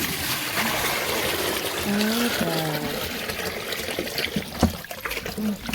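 Water splashes and trickles from a bucket into a container for farm animals in a village, a soft, close pour with small splatters and a few knocks.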